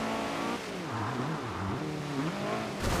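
A hot hatch in the Forza Horizon 2 racing game spins its wheels while accelerating: a loud, continuous engine roar rising and falling in pitch with tire noise, alone without talk.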